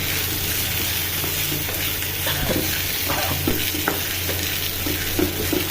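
Peanuts roasting in a pan for avalakki sizzle steadily, with a spoon stirring and scraping through them in a close, continuous frying hiss.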